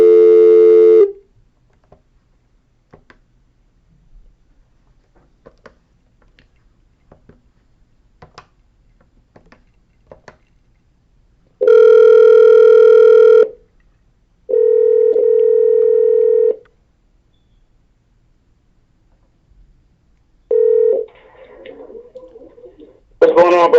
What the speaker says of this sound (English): I'm calling you from the show's phone